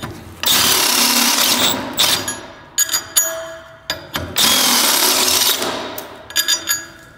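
A power drill bores holes out to fit 12 mm bolts for a Honda AWD viscous coupler install, with two long, loud whining bursts, each followed by clanks and short rattling taps.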